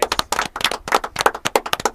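A small group welcomes guests on a car-detailing Q&A show with close, distinct hand claps in a quick, uneven rhythm, each clap sharp and separate rather than blended into a roar.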